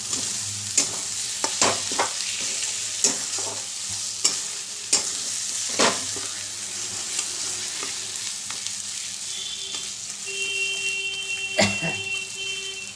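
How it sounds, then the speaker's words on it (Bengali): Fried dried fish stirred in a hot pan, a busy sizzle broken by repeated scraping clicks of a spatula against the metal, close and fairly loud throughout. "এই মাছগুলো দিয়ে দিলাম দিয়ে ভালো করে নেড়ে নেব"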